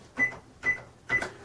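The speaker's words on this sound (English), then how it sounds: "the beeping sound when you press a button on the S100 cash register" Three short electronic beeps from button presses on an SE S100 cash register, evenly spaced and close, with faint key clicks beneath.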